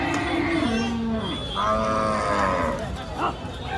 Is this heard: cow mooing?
yes